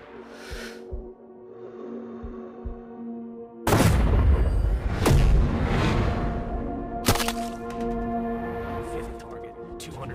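Sniper rifle gunshots in the video game Sniper Ghost Warrior 3, two sharp, loud reports with a booming tail, following a quieter stretch with soft thuds and low ambience.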